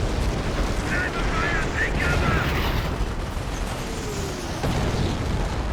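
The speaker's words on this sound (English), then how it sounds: "Here's an artillery barrage." Artillery barrage in the video game Company of Heroes, a dense continuous roar of rumbling explosions and blasts, loud and sustained with overlapping impacts.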